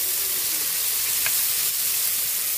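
Onion and tomato sizzle together in a hot frying pan, a steady, close frying hiss with no pauses, and one brief clink partway through.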